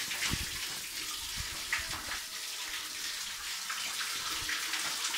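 Spring water piped down from a hillside source runs steadily into a village animal drinking trough, a continuous close splashing gush with small bubbling bursts and no voices.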